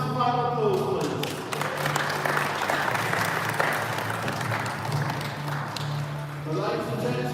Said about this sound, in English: So can we give Natasha a massive round of applause, please?